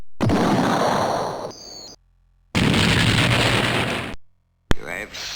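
Two long, loud blasts of explosive noise from a battleship being sunk in an Amiga Battleship-style video game, separated by silence and followed by a sharp crack and fading rumble.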